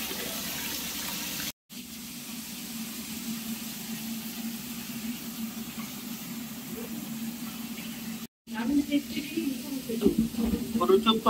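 Oil sizzling in a pan while tilapia fish fries, a steady hissing crackle that continues throughout at moderate loudness, with brief dropouts and a voice talking over it.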